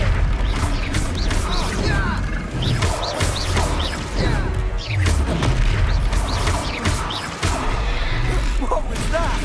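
Confringo spell explosions in Hogwarts Legacy combat: repeated loud blasts, crashes and whooshes in busy succession, with impacts and magical effects layered over a dense rumbling background, plus some voices.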